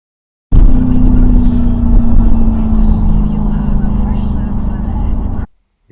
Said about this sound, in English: that was the Lamborghini in Strada, which is its comfort mode